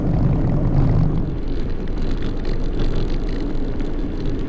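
A small motor powers a light aircraft climbing on throttle alone over a town centre, giving a steady, loud drone that runs throughout with no one talking.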